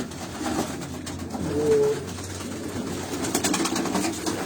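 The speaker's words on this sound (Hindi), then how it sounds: "ये एक आपको एक बहुत ही नायाब कबूतर दिखाता हूँ।" A racing pigeon coos softly once or twice against a noisy, rustling background, with no voices present.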